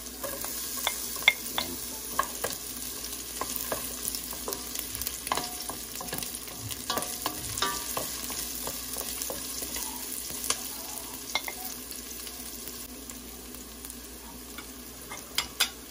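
Chopped garlic and onion sauté in a pan for chicken ginataan with chayote, giving a quiet, continuous sizzle broken by scattered clicks and scrapes of stirring.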